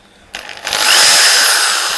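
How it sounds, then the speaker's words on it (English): A Black and Decker KR704RE hammer drill set to forward kicks on after a brief pause and spins up to a loud, steady high-pitched motor whine that holds to the end, with no talking. "It's a drill driver, so there's forward,"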